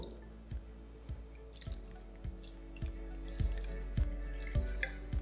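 Water drains from freshly made chhena resting in a strainer, falling as soft, irregular drips that land close by against a faint background hum.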